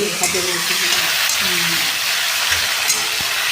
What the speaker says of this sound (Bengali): চিংড়ি মাছটা একটু ভেজে নেওয়া হোক, বেশি ভাজবে নেই।